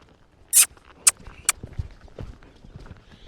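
A horse being asked into a canter during transition work, with a few sharp hoofbeat thuds and clops close by, then softer scattered footfalls.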